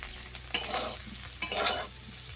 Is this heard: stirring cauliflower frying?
yes